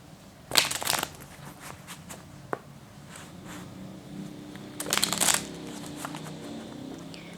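Tarot cards shuffled by hand in two distinct bursts of crisp riffling, the first short and loud, the second longer a few seconds later, with quiet room tone between and no talking.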